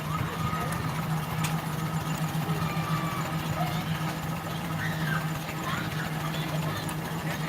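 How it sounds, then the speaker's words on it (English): An old tractor with metal wheels drives at an outdoor festival, giving a steady, continuous low engine drone with a rough mechanical hum that holds evenly throughout. "Driving an old tractor with metal wheels."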